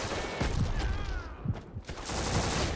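Missile strike in a video game: dense, overlapping bursts of explosive cracks and rapid gunfire-like impacts, loud and continuous, with a brief dip before the barrage resumes.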